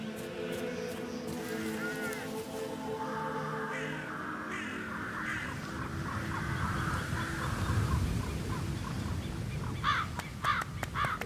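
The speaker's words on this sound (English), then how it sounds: "I'll never get rid of those stupid birds." Crow-like cawing birds in the stealth game Hitman 3, repeated harsh calls scattered through a busy ambient background, with a voice speaking over part of it.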